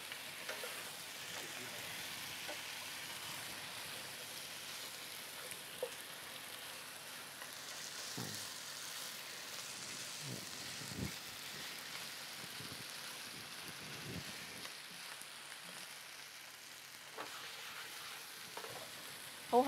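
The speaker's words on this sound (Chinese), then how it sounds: "嗱咁雞咧就要稍微煎耐少少咯，咁兩邊大概煎到佢咧。" Chicken pieces pan-fry for a sauce-fried chicken pot, making a soft, steady sizzle at low level, broken by occasional light taps and clatter of cookware.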